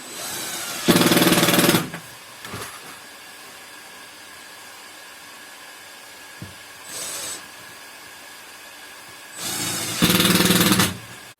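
Power driver sinking screws into a van bunk during a Ford Transit conversion, with two loud whirring bursts about a second long, one near the start and one near the end, a short fainter burst between them, and quiet handling noise in the gaps.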